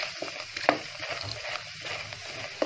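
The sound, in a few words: food frying in ghee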